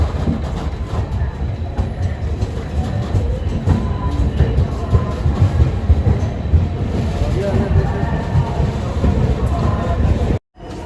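A passenger train rolls into Ludhiana station before dawn, a loud continuous rumble of wheels and carriages close by, with voices murmuring underneath until a sudden brief cut near the end.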